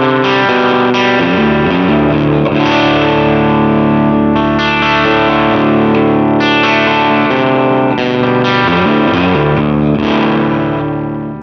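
An electric Telecaster-style guitar plays through a Nux Amp Academy with a distorted, effects-laden tone, sustained chords and riffs ringing loud and full without pause, no voices.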